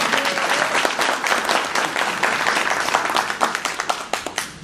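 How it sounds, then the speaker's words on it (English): An audience claps warmly for a dean standing at a multicultural award ceremony, a steady dense burst of close, loud applause that thins slightly toward the end. "Y'all give her a applause."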